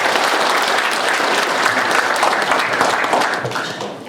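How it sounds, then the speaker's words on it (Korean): Audience applause welcoming a guest speaker at a Korean community association lecture, a dense, lively clatter of many hands at steady volume that fades a little near the end, with no speech over it. "다시 한번 큰 박수로 해주십니다"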